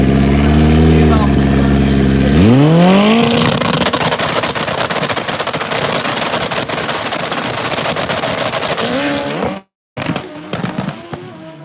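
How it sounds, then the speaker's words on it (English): A Kawasaki ZX14 drag racing motorcycle at a drag race qualifying event revs loudly, then launches with a rising engine howl and rapid crackling backfire pops, very close and intense, with a brief cut near the end. "I thought that Kawasaki ZX14 was a bomb for a second. I don't know if you guys could hear how intense that was."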